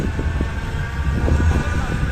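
A tram running along a street in Manchester, heard as a continuous low rumble mixed with wind noise, steady and moderately loud throughout.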